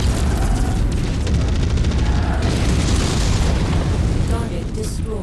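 A destroyed target blows up in a video game, a loud, continuous booming explosion with rumbling bursts that fills the whole stretch at close range, with game voice lines over it.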